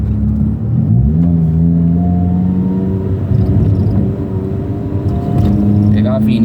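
A Chevrolet Celta 1.0 VHC-E with a cold air intake accelerating on a street, its engine droning steadily and rising in pitch through the gears, loud and close throughout.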